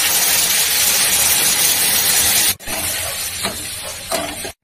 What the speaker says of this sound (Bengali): আর এই যে গরম জল দিয়ে দিচ্ছি